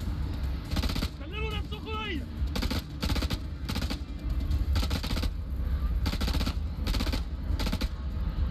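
Gunfire in the video game House of Ashes comes in repeated rapid bursts at a fairly regular pace, loud and dense, with a short voice briefly heard between shots.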